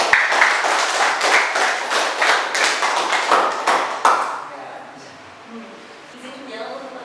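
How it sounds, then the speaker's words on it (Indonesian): A short burst of applause from a group of people, brisk clapping for about four seconds that stops abruptly and leaves a quiet room with faint low sounds. "Aplaus."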